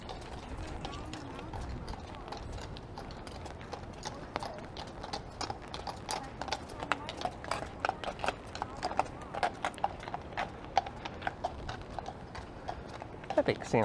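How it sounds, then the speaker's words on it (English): Horses' hooves clip-clop on a rainy downtown Toronto street in February as the animals are ridden through the city, with a steady run of close, crisp hoofbeats over wet city background noise. "I think seeing horses riding through the city is pretty cool."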